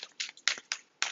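Tarot cards are shuffled by hand in a few quick, crisp riffling bursts, each a short papery flutter separated by brief pauses, close and fairly quiet.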